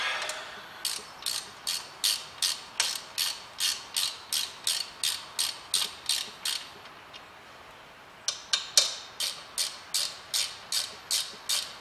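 Ratchet wrench tightening brake caliper bolts on a Vauxhall Astra during a front pad and disc change, with rapid rhythmic clicking strokes repeated in two bursts separated by a short pause, close and crisp.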